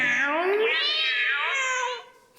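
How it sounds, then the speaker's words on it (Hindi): A cat gives a single loud, drawn-out meow that rises and bends in pitch, close by and alone, before fading into quiet. "बिल्ली बोली क्या म्याऊं"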